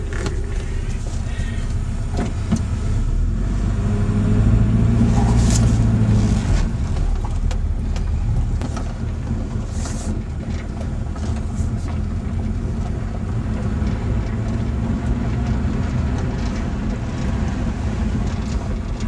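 A 1984 Nissan 200SX drives off in first gear, a steady close engine hum with a brief rising rev and some clunks and rustle, no speech.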